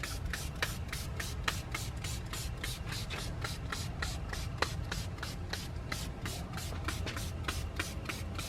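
Short spray bursts hiss inside a car trunk onto an all-weather cargo mat, repeating in a quick, fairly even rhythm of about two per second, close and clear with no talk.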